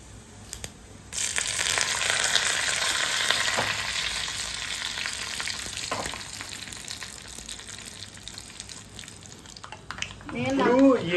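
Tempering seeds and dried red chillies fry in hot oil. After a brief quiet start, a loud, steady sizzle and crackle runs for most of the stretch, fading slightly before a voice cuts in at the end.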